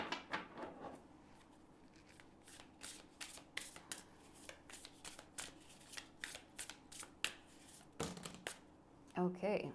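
Tarot cards are shuffled by hand in a run of rapid, close papery riffles and flutters, with a person speaking now and then.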